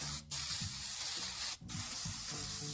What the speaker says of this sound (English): I'm gonna hit this with another coat of copper just to keep everything nice and fresh, make it sticky, and get it ready to install.